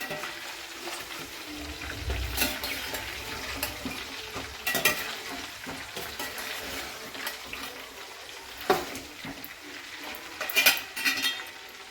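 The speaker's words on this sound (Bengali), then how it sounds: "আর এই আচারটা বানানো কিন্তু একদম লো ফ্লেমে করতে হবে, নইলে সমস্ত কিছু পুড়ে যাবে।" Mango pieces for a sweet mango pickle fry over a low flame while a utensil stirs them in the pan, with soft continuous sizzling broken by scraping and clinks of metal against the pot.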